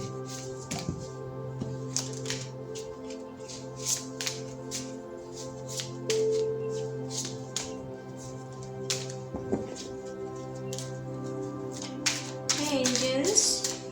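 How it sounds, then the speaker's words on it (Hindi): Tarot cards being shuffled by hand, a series of quick soft snaps and riffles scattered over fourteen seconds, close, with a faint steady hum underneath and a busier flurry near the end. "पहले ज़रा मैं कार्ड्स को शफल कर लेती हूँ।"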